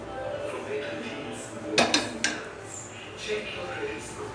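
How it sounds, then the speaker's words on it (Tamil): A spoon stirs lamb head curry in a cooking pot, giving a few sharp metallic clanks and scrapes close by against a low, steady kitchen background, with no talking. "இப்போ நல்லா கிளறி விட்டு அந்த வேக வச்ச தண்ணியவே கொஞ்சம் ஊற்றிக்கிங்க"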